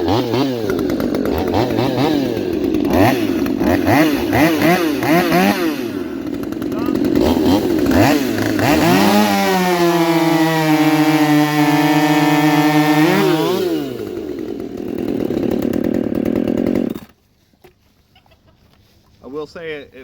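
Two Husqvarna chainsaws, a T540i and a T540 Mark III, racing: loud, close, overlapping two-stroke engine whine that revs and rises in pitch, then cuts off abruptly, leaving brief voices.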